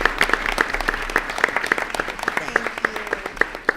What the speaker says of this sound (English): Can we have another round of applause for that beautiful singing tonight?